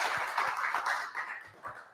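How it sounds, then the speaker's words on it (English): A small group clapping for a family, a soft wash of applause with a few distinct hand claps standing out, fading toward the end. "Let's give a big round of applause to the family."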